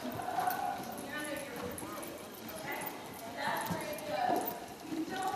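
Tennessee Walking Horses walk with soft, rhythmic hoofbeats, faint and partly masked while people talk over them.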